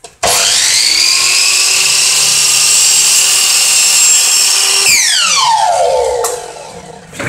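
A Clinton 10-inch sliding miter saw cuts through a wide wood board, a loud steady high whine that drops in pitch as the blade spins down at the end, with no talk.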